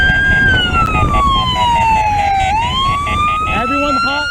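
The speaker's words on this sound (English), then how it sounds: "hold off on the police siren until we're out of their jurisdiction." A loud police siren wails nearby, its pitch sweeping slowly down and back up before shifting into a faster yelping pattern, over engine noise.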